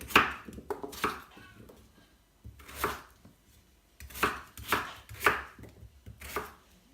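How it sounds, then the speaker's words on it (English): A knife chops potatoes into small pieces on a board in quick bursts of several sharp strokes, close up, separated by short pauses. "I'm just going to chop them up into quite small bits so they cook quickly"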